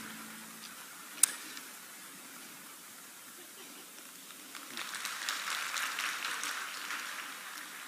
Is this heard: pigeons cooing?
no